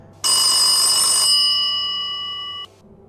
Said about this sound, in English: the orange phone rang